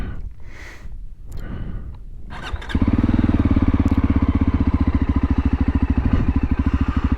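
A Voge 300 Rally motorcycle engine, close by, with a few soft clicks and rustles before it starts; it then settles into a loud, steady, rapidly pulsing idle that carries on to the end.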